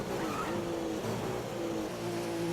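An F1 race car in the F1 2015 game rolls out of the pit lane at Austria on cold tyres, its engine whining steadily at a held pitch with small gear-step changes, fairly loud and alone.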